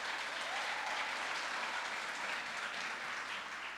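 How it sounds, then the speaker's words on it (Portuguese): A church congregation applauds during a service, a steady, even wash of many hands clapping heard from a distance and fairly soft throughout. "Dê uma salva de palmas para o Senhor,"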